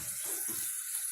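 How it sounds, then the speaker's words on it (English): Water poured from a container into a stir fry pan of chicken, a short soft continuous splash and trickle heard close and alone. "now I'm going to put in some water"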